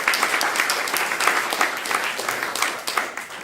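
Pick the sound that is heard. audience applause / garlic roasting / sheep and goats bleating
audience applause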